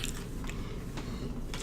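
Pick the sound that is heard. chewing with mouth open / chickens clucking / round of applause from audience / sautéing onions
chewing with mouth open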